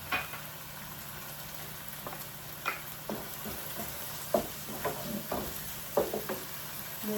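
Garlic and crunchy onion fry quietly in a pan, giving a soft steady sizzle with scattered small pops and stirring clicks, heard faintly without any talk.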